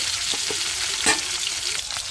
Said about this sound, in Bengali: মাছগুলো আমি সুন্দর করে ভেজে নেব লাল লাল করে